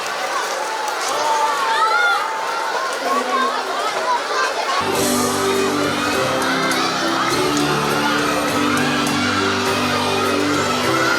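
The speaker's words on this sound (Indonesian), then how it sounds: "Tepuk tangan untuk semua." An audience at a Ramadan opening event bursts into cheering and whooping, children's shouts mixed in, a dense crowd roar that carries on under a voice and some music for about eleven seconds.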